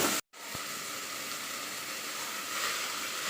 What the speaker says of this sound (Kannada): ಈರುಳ್ಳಿ ಚೆನ್ನಾಗಿ ಫ್ರೈ ಆಗ್ತಿದೆ.